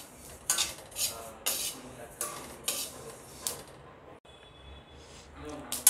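Sesame seeds roast in a pan on a low flame while a spatula scrapes around the metal in a steady rhythm of about one stroke per second, close and clear, with no talking.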